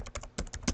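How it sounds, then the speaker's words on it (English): Quick keystrokes on a computer keyboard tap out in two short bursts with a brief pause between, close and crisp with no talk. "As I'm typing this, I'll click Get Started"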